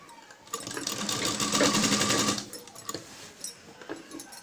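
A sewing machine stitching ruffles on a dhoti dress runs in one continuous, fast, rattling burst for about two seconds, then stops, leaving a few faint clicks and handling noises.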